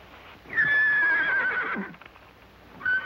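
A horse lets out a loud, drawn-out whinny close by, followed by a brief second call after a short pause.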